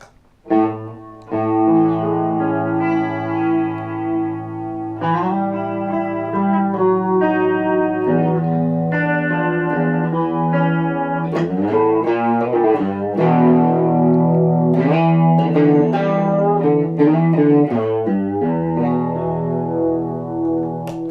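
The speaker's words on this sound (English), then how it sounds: "the Liquid Mind, which is a lovely analog chorus" Clean electric guitar played through an Elliott Randall Liquid Mind analog chorus pedal, sustained chords and melodic notes wavering with a lush, wobbling thickness throughout.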